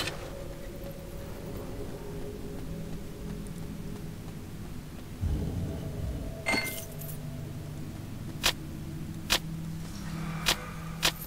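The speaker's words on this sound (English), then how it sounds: "You always hear that clicking noise that tells you there's a trap" Trap in Titan Quest giving off clicking noises: a jangling rustle, then a series of four crisp, evenly spaced metallic clicks over a steady low hum.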